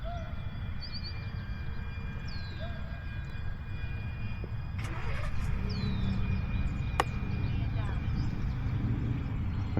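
An E-flite F4U Corsair RC model airplane flies circuits for touch-and-go practice, its electric motor a steady distant drone with faint tonal whine, while someone talks over it outdoors.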